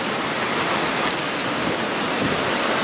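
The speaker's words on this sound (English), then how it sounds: "As you can continue to see the snowy hail come down." Snowy hail comes down on the coast at Ravenscar, a constant close rushing patter of pellets striking the ground and rocks, loud and unbroken, with nobody speaking.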